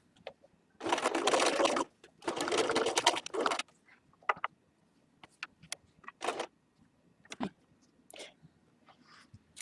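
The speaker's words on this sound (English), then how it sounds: "Once you've done the top line of stitching, the machine will automatically take you on to this line of stitching." A sewing machine stitches a buttonhole in two loud, rapid bursts of close, whirring stitching, followed by quieter short whirs and clicks as it moves on to the next line, with no talking.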